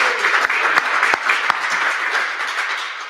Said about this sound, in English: Let's give a round of applause for Randy for his efforts.